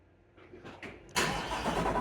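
A Chevrolet Corvette C8 in a garage, remote-started from a smartphone: a few quiet clicks and whirs of the starter, then the engine catches with a loud burst and settles into a strong, close idle.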